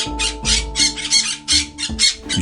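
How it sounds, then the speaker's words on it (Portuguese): Harsh, raspy squawks of turquoise-fronted amazon parrots repeat in quick succession, loud and close, over a steady low hum, in the Pantanal wetlands of Brazil. "Um grupo de papagaios verdadeiros,"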